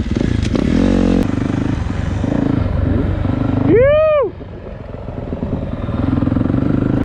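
A 2023 Yamaha YZ450F dirt bike roars around a motocross track at Aztec, its loud engine revving and shifting, with a rising and falling whine as one bike passes close by, and a voice whoops over it.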